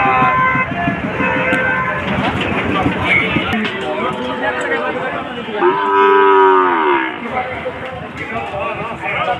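At a busy cattle market, a Sahiwal calf lets out a loud drawn-out moo over steady crowd chatter and bargaining voices, with hoof clatter and general bustle around it.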